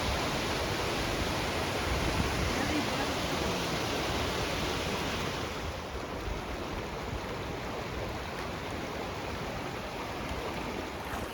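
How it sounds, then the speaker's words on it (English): Continuous rushing water with steady splashing from a hiker wading across a river in Yosemite Valley, loud and unbroken throughout with no voices. "Crossing a river. Walking in water."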